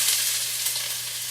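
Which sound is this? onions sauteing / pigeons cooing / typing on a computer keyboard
onions sauteing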